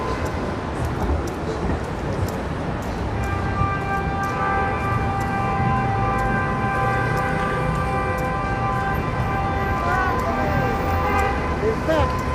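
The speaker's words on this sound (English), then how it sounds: "got a lot of horn honking here." Busy Midtown Manhattan street traffic with several car horns honking, some long and sustained, over a constant roar of engines and distant voices.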